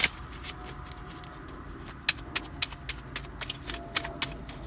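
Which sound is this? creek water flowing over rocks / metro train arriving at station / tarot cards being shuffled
tarot cards being shuffled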